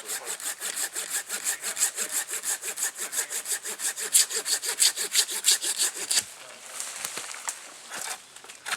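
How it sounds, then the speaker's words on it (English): A hand saw cuts through a small tree trunk near the ground in fast, steady back-and-forth strokes, then slows to a few scattered rasps and rubbing sounds. "Cut it off right here, right above that, and then right at the ground."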